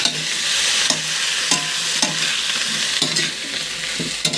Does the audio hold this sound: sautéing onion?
yes